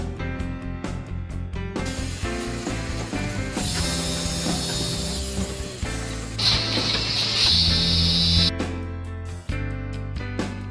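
P320TSD bag filling and heat sealing packaging machine handling washing powder in gusseted bags: a continuous, dense mechanical whir with ratcheting clicks and rhythmic clatter, joined by a hissing burst and a steady whine midway, loud throughout.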